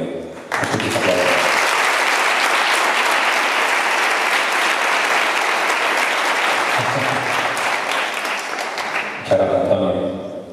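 A theatre audience at a live event in Cartagena bursts into loud, sustained applause for about nine seconds, dense clapping filling the room before fading near the end, where a brief bit of speech returns.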